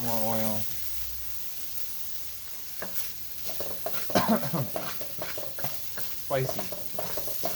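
Ginger and dried pepper frying in avocado oil for kung pao chicken, a loud, close sizzle with repeated stirring clatter from a spatula against the pan, while a person briefly speaks.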